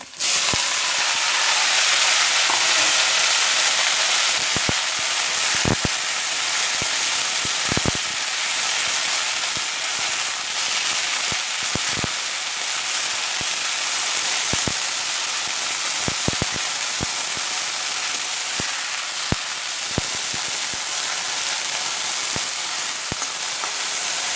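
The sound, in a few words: washed sewali (night jasmine) flowers frying in pan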